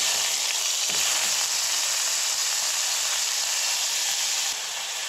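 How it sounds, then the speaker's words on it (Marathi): Tomatoes tempered in hot oil, giving a continuous bright sizzle and hiss with a brief clatter near the start and a slight drop in level toward the end, with no talking. "सो हांगसर हांवें ना टमाटाची फोडणी मारल्या"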